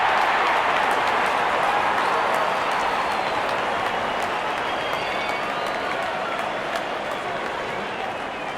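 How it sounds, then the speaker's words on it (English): A video-game cricket stadium crowd roars and cheers in a steady, dense wash as the openers walk out for the IND vs RSA ten-over match, loud and continuous throughout. "the crowd cheering in anticipation"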